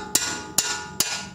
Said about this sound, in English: I'm using a 3-pound hammer to hit against